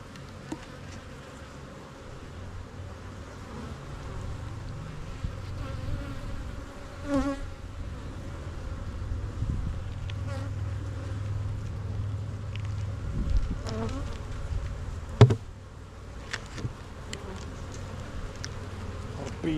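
Honeybees hum steadily around an open beehive during a swarm check, a dense continuous buzz close to the ear with occasional louder passes and small knocks, and no talking.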